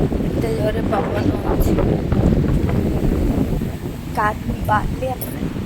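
Strong wind blows at Dagara beach, a loud, rumbling gust buffeting the microphone continuously, with someone talking over it.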